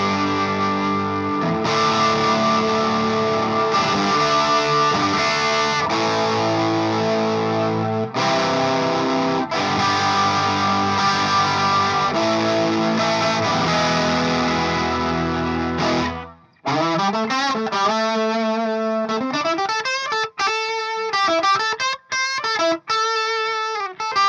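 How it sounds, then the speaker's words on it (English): Electric guitar played through a Boss SY-1 synthesizer pedal and a Sonicake Blue Screamer overdrive, a loud, dense, distorted synth-like tone with sustained chords, then choppy stepping synth notes near the end, no talk. "here is the sound of all three, the guitar, the synthesizer pedal, and the Blue Screamer together"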